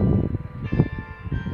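Village church bells ring out in Lemmer in the north of the Netherlands, sustained tones building over a muffled, rumbling outdoor background.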